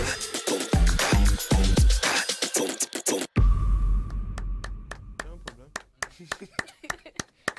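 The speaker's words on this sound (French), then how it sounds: "Applaudis fort. Plus fort que ça." Sparse, scattered hand claps from a small audience at a live café-style show, following a stretch of lively voices and sound; the claps are light and irregular rather than a full ovation.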